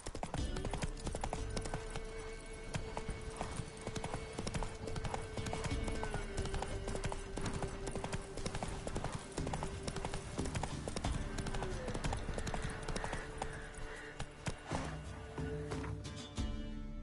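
Roach the horse from The Witcher 3 on PS5 gallops with steady, loud hoofbeats that continue throughout, joined by a brief snort or whinny and a faint game tone in the background.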